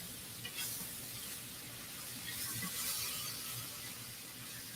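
Onions sizzle steadily on a hot carbon steel griddle while fajitas cook, a close, continuous hiss and crackle heard alone with no talking.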